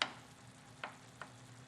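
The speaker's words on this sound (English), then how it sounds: "I'm crushing them up with the spoon" Canned Di Fratelli plum tomatoes being crushed with a spoon in a pot. A short clack opens the clip, then two soft squelching presses follow over a steady low background.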